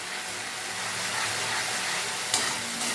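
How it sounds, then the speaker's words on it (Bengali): Spice paste with cumin powder fries in oil for a pabda fish curry, giving a dense, even hiss-like sizzle with a brief stirring scrape near the end. "এবার আমি এর মধ্যে একটু জিরে গুঁড়ো দেবো, দিয়ে আমি এটাকে একটু ভেজে নেবো।"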